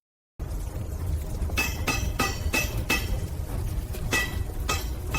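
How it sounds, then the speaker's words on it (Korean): Heavy hammer striking iron on a blacksmith's anvil, a series of sharp metallic clanks spaced irregularly over a steady low rumble, ringing with bright high overtones and fairly loud. "대장장이는 그 쇠를 꺼내 모루 위에 올리고 무거운 망치로 사정없이 내려칩니다"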